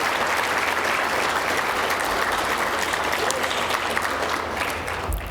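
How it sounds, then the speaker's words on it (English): A large crowd applauds at a university achievement celebration, a dense, loud, sustained roar of clapping that holds steady throughout and tapers only slightly at the very end. "Another huge round of applause."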